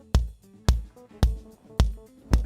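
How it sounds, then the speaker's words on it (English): Heavily compressed, distorted kick drum, five hard punchy thumps at an even pace about half a second apart, each with a crunchy, gritty decay, loud and alone. "What you're hearing now is a totally destroyed bass drum."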